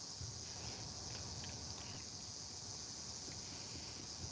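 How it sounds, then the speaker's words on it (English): A constant high-pitched insect buzz drones faintly and evenly throughout, like cicadas, with a soft rustling background and no talking. "Why are the cicadas out? They're aggravating me."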